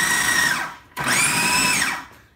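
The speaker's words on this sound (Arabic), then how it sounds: "طبعا انا هضرب دلوقتي" A kitchen blender grinds soaked rice for rice kofta in two loud, steady bursts, its high whining motor dropping briefly to silence between them before winding down at the end.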